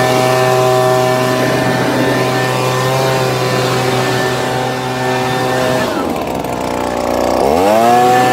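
An Echo SRM 225 weed whacker's small engine runs with a steady, buzzing drone close by, dips briefly, then revs back up.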